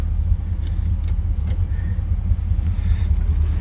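Toyota FJ40 engine running steadily after starting, a continuous low rumbling idle close by with no talking over it.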